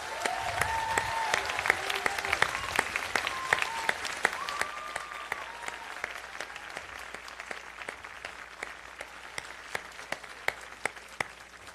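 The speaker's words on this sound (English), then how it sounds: "I think you deserve a round of applause." A school commencement audience applauds with dense, loud clapping full of sharp individual claps, sustained for the whole stretch and slowly easing off toward the end.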